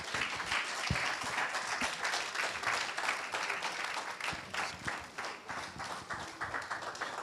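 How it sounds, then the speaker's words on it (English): Sustained conference audience applause after a keynote, many hands clapping continuously at a moderate distance, with occasional louder individual claps. "Keep clapping, please. Keep clapping."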